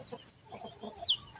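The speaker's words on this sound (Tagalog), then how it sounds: "tingnan mo yung manok ko" A chicken clucks softly close by in a rural yard, a few low short clucks followed by one brief higher squawk, quiet against faint background noise.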